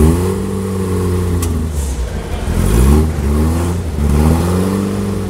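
Historic Fiat X1/9 rally car with Bertone bodywork, its mid-pitched engine revving loudly and close by, rising and falling in several throttle blips over a few seconds, with no talk over it.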